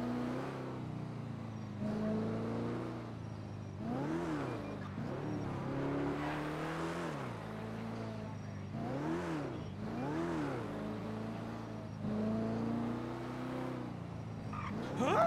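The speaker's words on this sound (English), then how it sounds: "Driving through, looking for that black car." Car engine in NoPixel 4.0 GTA roleplay driving at steady speed, with repeated rising and falling revs as the vehicle shifts and accelerates, continuous and fairly close with no talk.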